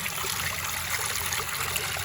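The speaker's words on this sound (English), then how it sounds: "It's like the falls are coming right down onto me." Water from a national park waterfall pours down nearby in a steady, dense, hissing rush with no pauses.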